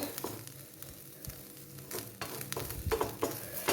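Grated coconut roasting in a little oil in a pan, a faint steady sizzle with soft scraping stir strokes and occasional louder pops toward the end, heard close up with no voices.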